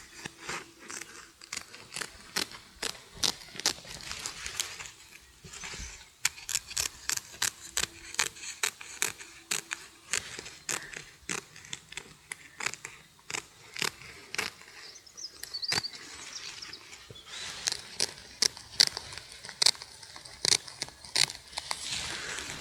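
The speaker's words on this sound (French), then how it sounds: "Ensuite, avec le ciseau. Je viens découper la bâche." Scissors snip through a woven plastic tarp in a garden, a long run of sharp, close crunching cuts in quick irregular rhythm with brief pauses, no voices.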